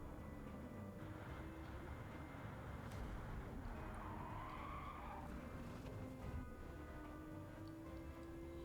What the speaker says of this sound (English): Applying the brakes too late, leading to a rear-end collision.